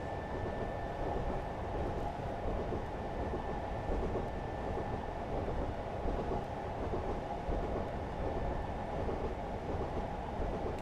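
A train in a railway simulator game rolls along with a steady, dense rumble and faint rhythmic clatter of wheels on track, continuous throughout with a thin high whine above.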